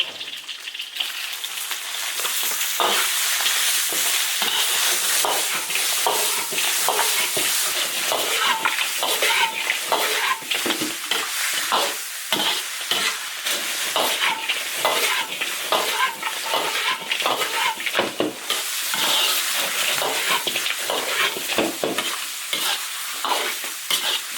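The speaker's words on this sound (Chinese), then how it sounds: "生姜大蒜，炒香，直接下鸡肉" Chicken stir-frying with ginger and garlic in an iron wok, a loud continuous sizzle with constant scraping and tossing of the spatula, close up, with faint speech underneath.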